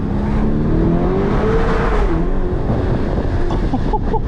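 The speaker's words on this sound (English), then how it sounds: "Let's see if I can launch it. I think I have launch control." Black Lamborghini Urus SUV launching hard, loud engine roaring and rising in pitch as it accelerates, heard close from inside with constant rumble throughout.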